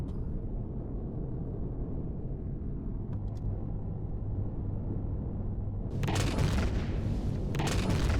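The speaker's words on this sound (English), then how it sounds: "This is where it's all going to blow up and disintegrate." Homing missile explosions in Empyrion Galactic Survival boom over a steady low engine rumble, with a cluster of sharp blasts arriving near the end, fairly loud and without talk.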